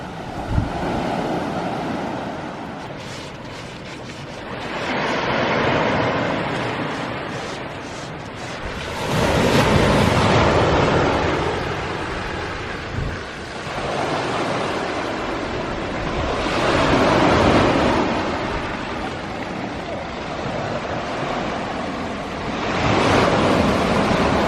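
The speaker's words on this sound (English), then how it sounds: "here is Durgan beach" Waves break and wash onto Durgan beach on the Helford River in Cornwall, surging in slow repeated swells with wind noise over the microphone and no voices.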